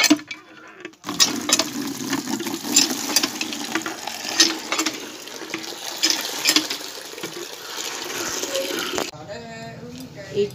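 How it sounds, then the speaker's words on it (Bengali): Water runs steadily from a tap while a bedsheet is soaked and washed in cold weather, a continuous close splashing gush that starts abruptly and stops near the end. "আমি হচ্ছে এখন কলপারে যাই, চাদরটা ভিজাবো, ধুবো, কলপারে যাই।"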